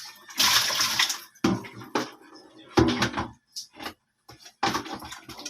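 Tilapia rinsed under a running kitchen tap in a home cooking setting, with several bursts of splashing water separated by short pauses, close and fairly loud.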